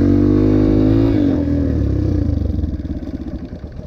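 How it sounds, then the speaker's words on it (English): A dirt bike stalls after the clutch is dumped with too much throttle: a loud, close engine roar falters into uneven chugging pulses that slow and die out. "let out the clutch too quickly, and give it too much gas"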